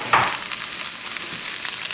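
Onions and potatoes frying in butter in a pan give a steady, close sizzle with a brief stir near the start, the hiss continuing evenly without any talking.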